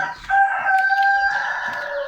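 A rooster crows once on a farm, a loud sustained call held for about two seconds, close to the recording.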